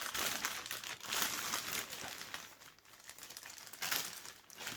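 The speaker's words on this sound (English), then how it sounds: "Gotta rip it open like a caveman." Cardboard and paper wrapping on a Vans shoe box ripped open by hand, a dense run of loud, close crinkling and tearing bursts that keep going for several seconds with no pauses.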